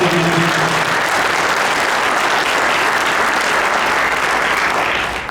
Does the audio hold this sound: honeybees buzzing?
no